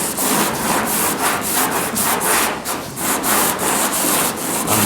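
Hand block sanding of body filler on a restored GTO body panel, using fresh sandpaper: steady rhythmic rasping strokes, about two per second, close and loud, with no talking.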